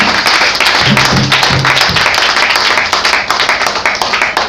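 A church congregation at a Sunday service claps to acclaim Jesus: dense, loud, sustained clapping that fills the room, with a brief sung or hummed tone partway through.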